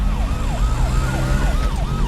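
A wailing ambulance siren sweeps up and down in a steady repeating cycle over low traffic rumble, loud and fairly close.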